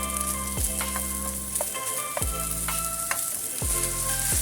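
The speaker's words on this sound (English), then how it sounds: "Stir fry the garlic and the peppers." Garlic and peppers stir-fried in oil, a bright steady sizzle punctuated by a few sharp scraping clatters of the spatula roughly every second and a half, close and alone without speech.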